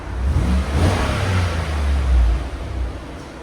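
A 2015 GMC Sierra SLT pickup with a 5.3L V8 and Borla Touring exhaust revs up, a loud, deep, rumbling engine swell that holds and eases slightly, heard close with no talking.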